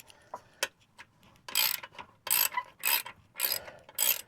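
A ratchet with a 12mm socket loosens an exhaust bolt on a Kawasaki Ninja 1000SX, giving several sharp bursts of rapid clicking in quick succession, close and clear with no talk.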